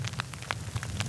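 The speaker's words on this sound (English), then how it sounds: "this is actually not rain, it's hail." Hail falling during a desert thunderstorm in Arizona, scattered sharp ticks and patters striking surfaces over a low rumbling background, fairly faint and irregular.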